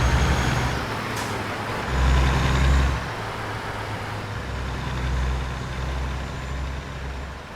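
A modded Peterbilt 387 truck in American Truck Simulator idles with a steady deep diesel rumble, the engine swelling twice and an air brake hiss sounding near the start.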